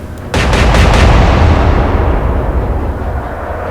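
Battleship naval guns fire in the Atlantic Fleet video game, from the HMS Hood in an alternate Battle of Jutland: a loud booming salvo after a brief lead-in, followed by a long rumbling roar that slowly fades.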